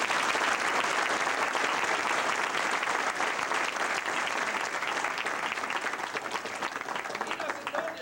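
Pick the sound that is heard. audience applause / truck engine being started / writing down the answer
audience applause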